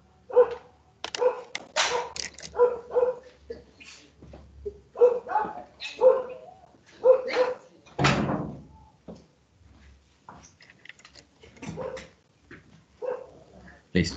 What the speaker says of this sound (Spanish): un perrito le dio como por ladrar